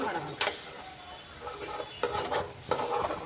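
A spoon stirs a thick sweet khova mixture in a metal pan, giving several distinct scraping clinks against the pan over a quiet background.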